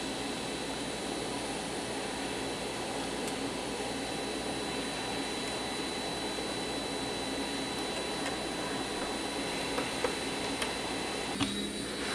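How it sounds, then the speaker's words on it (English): Hot air rework station blowing steadily at its lowest setting of 100 Celsius while heating parts on a PlayStation 4 1001A board, a constant airy hiss with no talk. "quick hot air station to just heat them up a little bit. I'm going to set it to its lowest, 100 Celsius"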